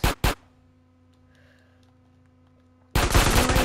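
Loud bursts of gunfire from a video game gun training practice range: two sharp shots at the start, a quiet gap with a low hum, then a sustained rapid machine-gun burst to the end.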